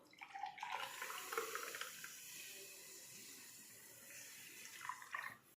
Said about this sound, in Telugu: ముందుగా నేను కొబ్బరి నీళ్ళను కొలుచుకుంటున్నాను.